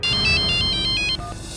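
A phone rings back while a call is being returned, a rapid electronic trill in short repeated bursts, loud and close, with no talk over it.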